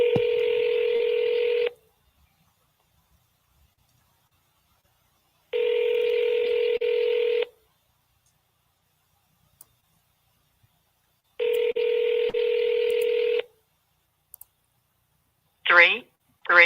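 Telephone keypad dialing tones for an outgoing call in three separate bursts of steady dual tones, each about two seconds long and spaced several seconds apart, followed by quick chirping tones at the end, fairly loud and clear with no talking.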